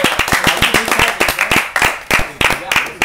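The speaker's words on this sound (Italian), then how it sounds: "Un applauso alla torta di De Feo." A small group clapping in applause for a cake at an informal football transfer-market talk show, with uneven hand claps repeating over about three seconds and voices talking underneath.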